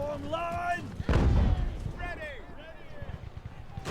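Cannon booms once amid battle noise in Ultimate Admiral: Age of Sail, a loud broadband blast standing out from a bed of voices and shouted orders, with fainter rumbling after it.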